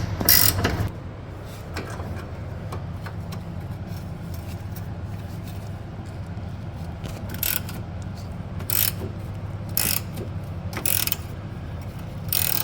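A wrench works a bolt that has been sprayed with WD-40, giving repeated ratcheting clicks and short mechanical bursts at close range, spaced irregularly over a low steady background with no talking.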